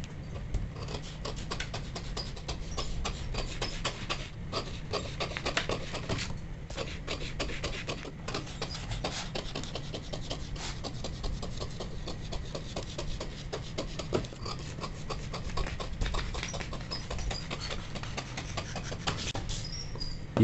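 Scissors cut blouse cloth along a marked line in a steady stream of soft, close crunching snips and rasping strokes, even in loudness and with no talking.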